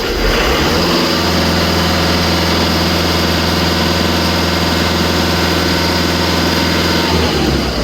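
A Skoda Octavia, VW Caddy or Tiguan engine, with soot and ash cleaned out, idles steadily and loudly, its exhaust droning at an even, unchanging rumble with no voices.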